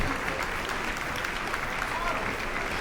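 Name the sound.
church audience applause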